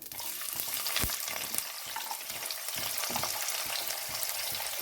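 Onions for mushroom pulav fry in a pan with a steady, fairly soft sizzle and occasional stirring scrapes and taps, close and continuous, without speech.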